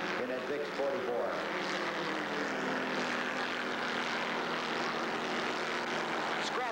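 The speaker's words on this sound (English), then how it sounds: "A little four-banger just singing out there" A four-cylinder swamp buggy engine at a 1988 swamp buggy race drones steadily at high revs, a loud sustained whine under a commentator's voice.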